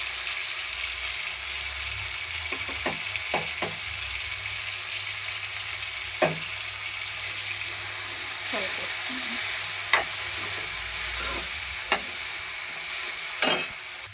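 Tomatoes and green chillies frying with turmeric in a pan, a steady close sizzle broken by repeated clacks and scrapes of a spoon stirring, with no voices.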